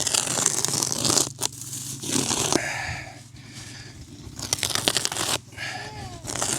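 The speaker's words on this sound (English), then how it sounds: "Let's go take our knife and cut the bales open." A knife slicing open hay bale strings and tearing through dry hay makes loud rustling, crinkling bursts, several separate ripping and scraping passes with short quiet gaps between them, close by and with no speech.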